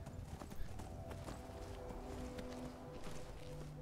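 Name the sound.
horse hooves clip-clopping, from a video game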